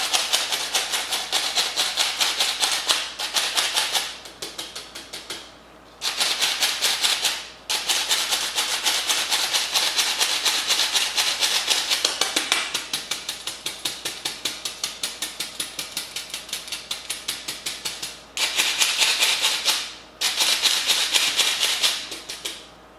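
Flour pushed through a three-layer sieve gives a loud, rhythmic rasping shuffle, fast repeated strokes in long bursts separated by brief pauses, with no talking.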